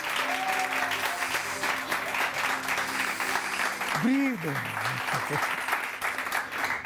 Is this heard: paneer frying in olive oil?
no